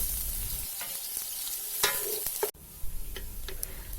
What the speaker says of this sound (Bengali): এখন পেঁয়াজ কুচিগুলোকে হালকা ব্রাউন করে ভেজে নেব